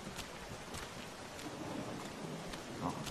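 Steady rain pours in The Walking Dead video game, a dense, even hiss of drops across the whole stretch with a few soft low rumbles beneath, no voices.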